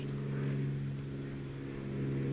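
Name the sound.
airplane flying overhead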